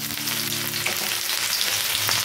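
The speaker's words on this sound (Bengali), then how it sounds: "তেল একদম গরম হয়ে গেছে, আর আমি দিয়ে দেবো আদা রসুনের কুচিটা দিয়ে দেবো" Chopped ginger and garlic hit very hot oil for a street-style veg chowmein, giving a loud, steady, close sizzle and crackle that fills the whole moment with no voice.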